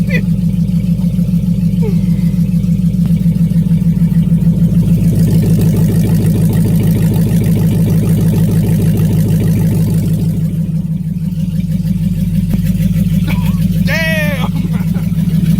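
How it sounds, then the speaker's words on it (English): A 2005 Dodge Magnum R/T fitted with Scat Pack headers roars loudly and continuously close by, its deep engine note rising and falling with revs, while excited voices talk over it. "Magnum is very, very loud, so fair warning."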